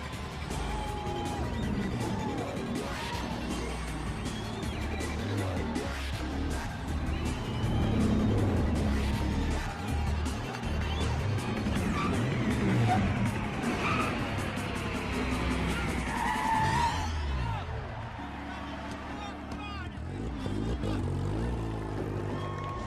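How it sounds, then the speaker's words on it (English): Drag race scene from The Fast and the Furious with JDM cars including an Acura Integra, Mitsubishi Eclipse, Mazda RX-7 and Honda Civic, engines roaring and revving loudly and continuously with passing cars and tire skids, under a dense film soundtrack. "we can see the traditional and iconic drag racing scene with the characters and their iconic cars"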